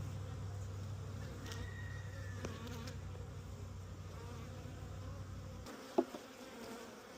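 A defensive honeybee hive during an apiary inspection, giving a steady, dense buzz of many bees close by that continues for several seconds, then cuts off abruptly and is followed by a single sharp knock.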